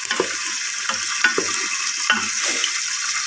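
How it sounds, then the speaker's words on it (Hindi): Onions browning in hot ghee for dal, a bright continuous sizzle with a few quick spatula stirs scraping the pan, close and alone. "यहाँ पे दाल जो है उसके लिए प्याज ब्राउन कर रही हूँ"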